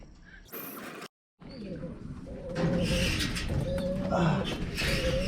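Racing pigeons coo softly at a loft after returning from a hard race in Vigan, Ilocos Sur, with rattling mechanical clatter and voices talking over the busy background.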